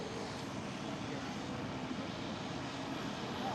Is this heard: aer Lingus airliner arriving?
yes